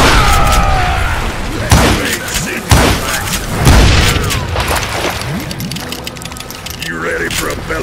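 Gunfire from the Wild West shooter Call of Juarez Gunslinger, with several heavy booming shots and thuds spread through a dense, loud mix of game noise and mechanical clicks, while voices talk over it.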